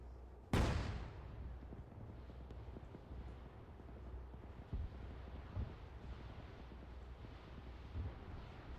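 A tank cannon in a video game fires once with a sharp, loud blast that rolls off into a long rumbling decay, followed by faint wind-like noise and a few quieter distant thuds.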